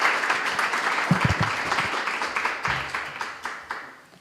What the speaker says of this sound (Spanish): Le recibimos con un gran aplauso y tiene la palabra